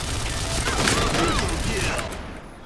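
Gunfire in the video game Point Blank, heard as a dense, moderately loud volley with metallic clatter and ringing tails that fades toward the end, while voices talk.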